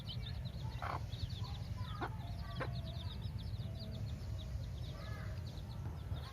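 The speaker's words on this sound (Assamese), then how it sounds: "আজি 3 দিনৰ আগত কণী ফুটাইছে। আপোনালোকে পোৱালিকেইটা চাওক" A hen with fifteen newly hatched chicks on a low-cost poultry farm gives a few soft clucks among many faint, rapid chick peeps over a steady low background hum.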